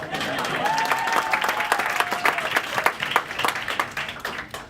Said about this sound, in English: you can applaud after each one of these